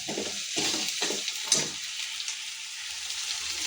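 Onion, ginger and garlic fry in a pan in a home kitchen, a steady close sizzle with a few bursts of stirring early on before it settles into an even hiss.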